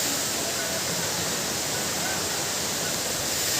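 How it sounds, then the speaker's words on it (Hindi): Water pouring steadily from above at a waterfall, a dense, unbroken rushing roar that stays constant throughout with no other sounds on top. "इधर पानी ऊपर से गिर रहा है"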